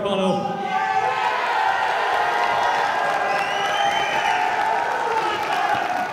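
A crowd at a Brazilian jiu-jitsu grappling event cheers, whoops and applauds in a sustained roar, with excited shouts rising above the steady noise throughout.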